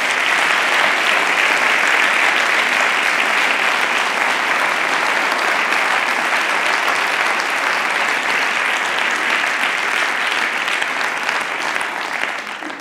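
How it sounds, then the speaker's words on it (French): A TEDx audience in Bordeaux applauds its speakers, a dense, steady wash of clapping from many hands that fills the hall at full strength and tapers only slightly near the end, with no talk over it. "si vous voulez bien, les applaudir pour encourager nos speakers"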